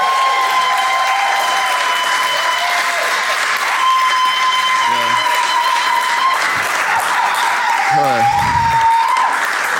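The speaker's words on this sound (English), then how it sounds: "Y'all give it up to Tylon Monger. Clap your hands" Loud, dense applause from a comedy roast audience fills the whole stretch, steady and sustained, with a voice briefly cutting through near the end.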